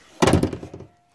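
A door in a Mario video game swings shut with a single solid thunk, a loud close impact that decays quickly into quiet.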